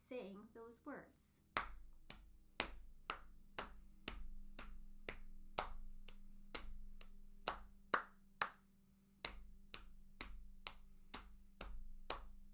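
Body percussion rhythm game in a circle: a steady run of sharp claps and finger snaps, evenly spaced about twice a second, close and crisp, with brief talk at the start.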